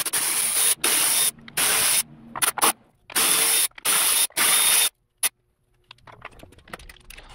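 Ratchet working the upper intake bolts, 10 mm and 8 mm, on a 2019 Jeep Wrangler Rubicon JL, with several quick bursts of close, sharp clicking separated by short pauses and a couple of single clicks toward the end, no speech.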